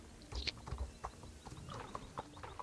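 Horse hooves clip-clop on the ground in a horse-riding video game on a farm between paddocks, a soft uneven run of hoof knocks with faint background ambience.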